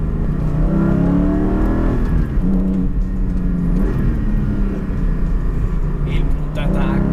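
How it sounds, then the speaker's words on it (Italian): A Porsche Cayman GT4 718 engine revs and drones loudly from inside the car, pitch rising and falling through gear changes with automatic throttle blips on downshifts, and someone talks over it throughout. "ogni volta che si scala marcia la macchina fa la doppietta automaticamente"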